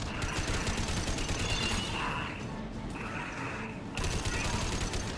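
Sustained weapons fire in Mass Effect on Insanity difficulty against a Collector vessel, a dense rattling barrage of rapid shots and mechanical clatter, loud and continuous with a brief dip before resuming.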